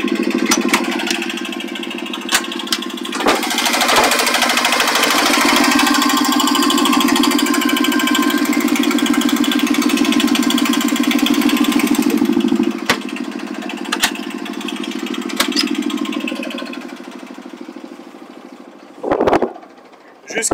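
A sailboat's engine runs steadily during a launch and test, a droning low hum that holds for about twelve seconds before easing off, with a few sharp knocks and a louder bump near the end.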